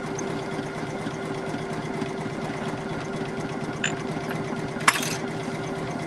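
A Poolin EOC06 single-needle embroidery machine sews a satin stitch, a steady fast mechanical whirring with a fine rapid needle chatter that runs unbroken throughout, with a brief sharper click near the end.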